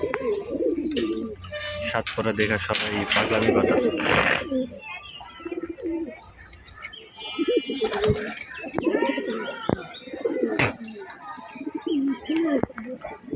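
Pigeons coo and murmur continuously inside a pigeon loft, close and fairly loud, while someone talks over them.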